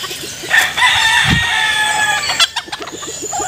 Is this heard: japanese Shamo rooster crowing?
yes